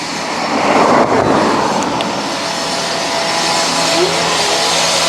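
HIBOY Max Pro electric scooter riding on a city street, giving a loud, continuous broadband rush of motor and road noise that stays steady throughout, with no voices.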